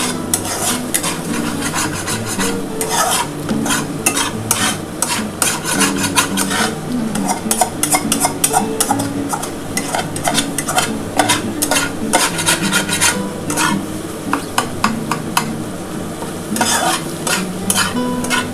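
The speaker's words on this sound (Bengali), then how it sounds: "আমার কিন্তু ভাজা হয়ে গেছে ডিমটা" An egg fries in white oil in a kadai for egg chow mein, with steady sizzling and repeated scraping and stirring strokes from a utensil throughout, loud and close, with no talk.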